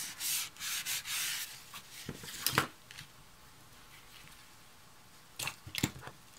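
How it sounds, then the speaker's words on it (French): Cardstock is pressed and rubbed down onto a handmade Christmas mini album card for scrapbooking, giving soft, close rubbing strokes in a few short bursts separated by quiet pauses. "Une fois bien en place, j'appuie pour faire adhérer."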